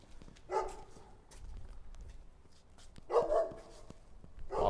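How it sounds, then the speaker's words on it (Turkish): A guard dog at a villa barks sharply a few times, separated by pauses, fairly close and loud against a quiet background. "Yan taraftaki köpek zaten burayı da koruyor"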